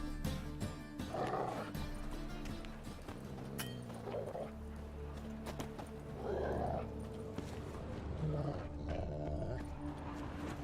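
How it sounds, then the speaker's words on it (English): Dogs in a video game growl and bark in several short bursts over a constant low rumbling ambience, moderately close, with some other game noises mixed in. "Just beware of the dogs."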